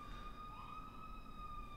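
Distant police and ambulance sirens hold a steady, faint wail in the background, with several tones layered and slowly drifting.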